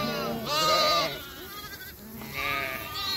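Young breeding ewes for sale, gray-fleeced and first or second lambing, bleat in two drawn-out calls, moderately close, with a quieter, wavering bleat between them.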